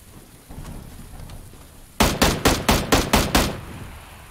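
Burst of gunfire in the battle royale game PUBG: about seven sharp, loud shots spaced evenly over roughly a second and a half, following quiet ambient game noise.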